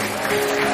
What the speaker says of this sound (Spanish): fuerte el aplauso para Julio